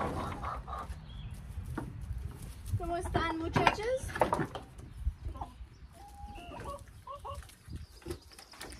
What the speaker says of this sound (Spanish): Muy buenos días a las gallinas.